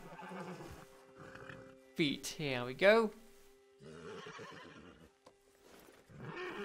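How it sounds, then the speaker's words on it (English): A horse in the video game Red Dead Redemption 2 lets out a loud, wavering neigh in the middle, with someone talking before and after it. "come on, horse, don't stop. Don't make that noise,"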